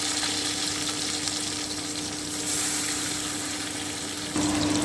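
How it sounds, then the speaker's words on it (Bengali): Prawns fry lightly in hot oil in a pan, a loud, steady, close sizzle that hisses continuously throughout, briefly swelling near the end. "এবারে আমি মাছগুলোকে ভেজে নেব খুব হালকা একটু ভাজবো চিংড়ি মাছ কখনো বেশি ভাজতে হয় না"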